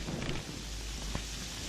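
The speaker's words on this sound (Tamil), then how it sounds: "மழை இப்படி பெஞ்சிட்டு இருக்குதே." Steady rain falls in a continuous broadband wash, with faint low rumbling beneath it and no voices.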